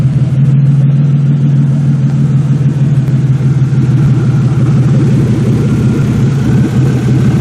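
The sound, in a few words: 2002 Buick demolition derby car engine running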